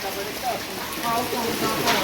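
Heavy monsoon rain pours in a constant dense hiss at a dam, with voices faintly audible underneath.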